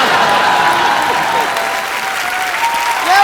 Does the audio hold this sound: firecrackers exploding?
no